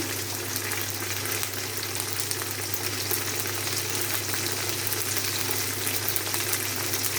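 Ginger and garlic paste sizzles steadily in a pan over browned paste for a catfish and green banana curry, a loud, continuous frying hiss with a low hum beneath and no voices.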